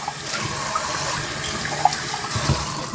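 A glass rinsed under a running kitchen tap, steady splashing water filling the moment with a brief clink or two, close and moderately loud with no voices.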